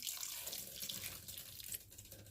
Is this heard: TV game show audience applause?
no